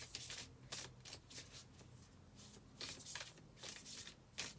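Crystal oracle cards being shuffled by hand in soft, rapid riffling bursts, repeated steadily and close but quiet, with no talking.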